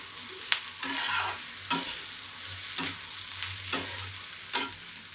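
Cabbage and tomato fry in oil in a pan, a low sizzle punctuated by five evenly spaced stirring strokes, each a sharp scrape followed by a surge of hissing.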